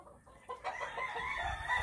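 Hens and chickens at an Oklahoma game farm cluck and call close by, with a rooster-like crow rising over the flock after a short quiet start.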